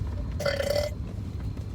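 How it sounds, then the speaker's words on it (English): A single short, throaty burp, close and fairly loud, lasting about half a second over low background hum. "That was the worst burp I've ever done in my life."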